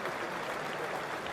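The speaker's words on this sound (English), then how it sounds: "nice applause for Paul Collingwood" Crowd applause for cricketer Paul Collingwood at a Marylebone Cricket Club versus Rest of World one-day match, a steady wash of distant clapping from the stands, fairly faint and continuous.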